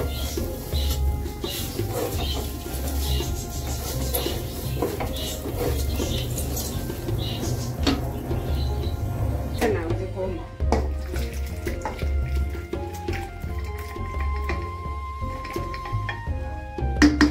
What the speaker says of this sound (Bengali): এখন চালটা ভেজে নিচ্ছি